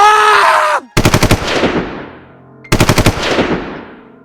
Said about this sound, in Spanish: Se podían escuchar disparos y gritos.